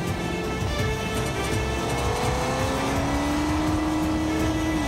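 A car engine racing in a virtual driving game, steady loud revving with rising engine tones over a constant drone and no speech.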